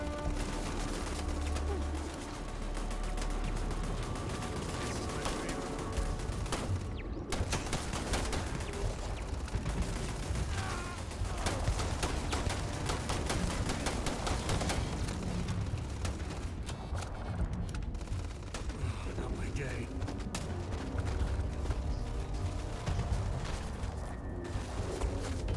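Rapid turret gunfire in Starfield crackles almost nonstop, loud and dense, with bursts layered over a busy game soundscape for the full stretch.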